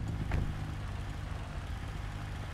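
A car engine idles in GTA 5, a low steady rumble with a faint brief higher tone early on, moderately quiet and unbroken.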